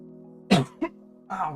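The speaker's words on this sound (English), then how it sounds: "I didn't mean to cough like right next to the mic" A sharp cough right beside the microphone, then a shorter second cough and a throat-clearing rasp, all loud and close over a steady low hum.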